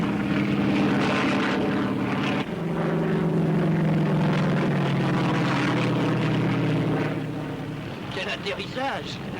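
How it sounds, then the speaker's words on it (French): A propeller airplane lands, its loud droning engine close and sustained, shifting pitch as it slows, then fading slightly near the end while voices talk over it. "Quel atterrissage!"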